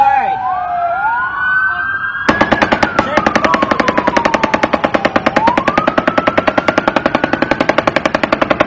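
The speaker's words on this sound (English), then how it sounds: "That's a machine gun they're shooting right now. Do you understand that's gunfire?" Rapid, evenly spaced bursts of machine gun fire rattle on loudly and continuously, with a wailing siren rising and falling behind them.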